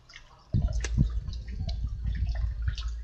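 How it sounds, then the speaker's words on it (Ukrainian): Water is poured from a container onto the soil beneath garden plants, a close, soft splashing and trickling that starts abruptly and continues unevenly for a few seconds. "під кожну рослинку вливаю води."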